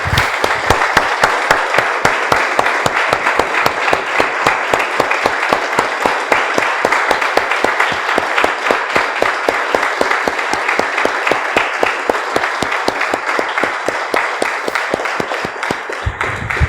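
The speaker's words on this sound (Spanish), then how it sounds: "Vamos a un aplauso, hermanos, al Señor." Church congregation clapping in praise, a loud, dense, steady applause with rapid rhythmic claps sustained throughout before easing off at the very end.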